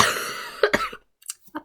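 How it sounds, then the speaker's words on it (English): A few rough coughs close up from a person recovering from COVID, a quick burst followed by a couple of softer, separate coughs after a short pause. "I'm still coughing a bit after that."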